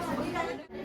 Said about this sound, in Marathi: एवढी गर्दी आहे